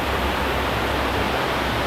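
Tumpak Sewu, a tiered waterfall in East Java, pours down in a dense, steady roar that fills the whole moment without a break.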